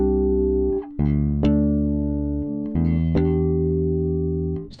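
Fender Jazz Bass with both pickups fully on, giving a deep, full tone: a series of plucked notes, each with a sharp attack and a long sustained ring, played slowly and clearly with no talking.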